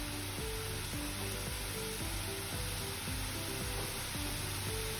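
Onions sizzling in a pan as Kashmiri red chili powder is added for bread upma, a steady broad hiss of frying running the whole time, with a low rhythmic tonal pattern underneath.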